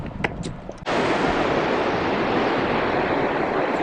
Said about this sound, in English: You see the waves up here and stuff though.